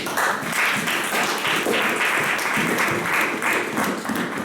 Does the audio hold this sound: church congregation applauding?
yes